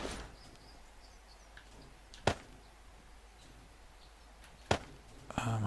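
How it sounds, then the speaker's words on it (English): Two sharp, loud thuds land a couple of seconds apart, a zombie banging on a door in the survival game 7 Days to Die, over a quiet, low ambient background with a faint rustle at the end. "sounds like there's a zombie banging on my door."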